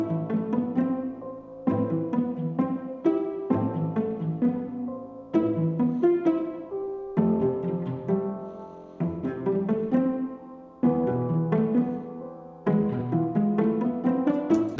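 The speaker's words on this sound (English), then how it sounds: "I just used this pizzicato cello from Structure." Pizzicato cello from the Structure instrument plucking an arpeggiated chord pattern, clear rhythmic plucked notes in repeating phrases with short pauses between, alone without talk.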